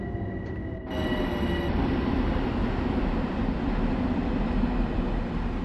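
A Metro North train creeps slowly into Grand Central in Train Sim World 2. A steady, loud rumble of wheels and motors fills the scene, with faint tonal whines fading early on.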